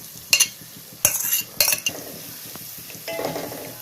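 A paste of ground mint, coriander and three green chilies is stirred in a hot pan, with a few sharp scrapes of a spoon against the metal over a soft sizzle, close, with no talking.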